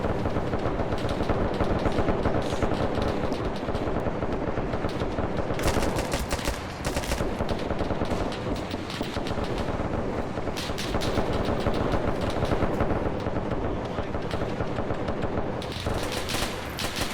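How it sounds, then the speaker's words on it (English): Continuous heavy gunfire fills a military operation in a video game, with sustained automatic bursts and overlapping shots, loud and unbroken for the whole stretch. "Hear all that gunfire."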